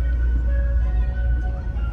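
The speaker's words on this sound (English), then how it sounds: "Look, the ice cream truck, boom! Let me roll down my window so that y'all can hear the tunes." An ice cream truck's jingle on a sunny street in Philadelphia's Feltonville neighborhood, heard from a car with the window rolled down: a steady, tinkly melody over a loud, low engine rumble.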